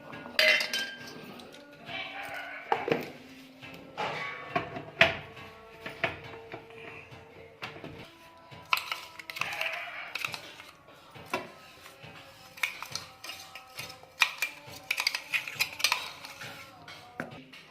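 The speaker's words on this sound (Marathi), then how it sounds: "मग ते सर्व आपण व्यवस्थित कालवून घ्यायचे आहे, मिक्स करून घ्यायचे आहे।" Curry leaf chutney is mixed with red chilli and salt, a spoon clinking and scraping against a metal dish in irregular bursts, close and fairly crisp, with brief faint voices here and there.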